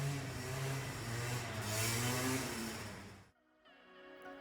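An Uber car heading to Montparnasse station in Paris, a steady mid-pitched engine and road noise heard from inside the cabin that drops away abruptly near the end.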